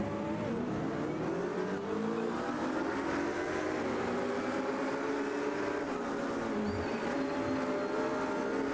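Ford GT40 engine in the AMS2 racing game, a steady droning roar held at high revs with gradual pitch shifts as it climbs and eases, continuous throughout with no talk.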